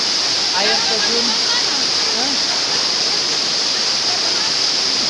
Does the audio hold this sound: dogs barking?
no